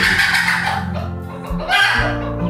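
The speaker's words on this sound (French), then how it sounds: "Ça, c'est le bruit de ma poule." A pet hen clucks close by in a run of throaty, repeated calls with no other sounds.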